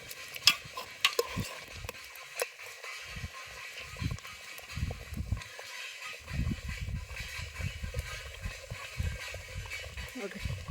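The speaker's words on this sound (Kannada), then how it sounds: "ಬರೀ ಮಸಾಲೆ ಒಳಗನ ಕುದಿಲಿಕತ್ತದ" Soft bubbling and gentle stirring of a thick mutton curry simmering in masala without water in a pot, with intermittent scraping and low kitchen noise; no talking.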